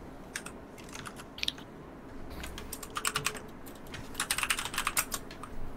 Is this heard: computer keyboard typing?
yes